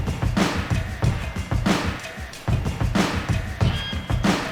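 Remade hip-hop drum beat, built over the original sample: punchy kicks and cracking snares in a steady loop with a busy, loud full-band texture throughout.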